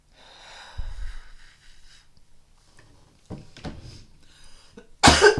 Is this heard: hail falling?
no